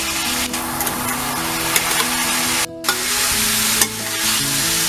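Rice stir-fried over a high flame for vegetable fried rice, a loud continuous sizzle with stirring and tossing scrapes, briefly dropping out near the middle before resuming, no voices.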